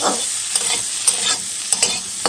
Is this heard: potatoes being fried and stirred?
yes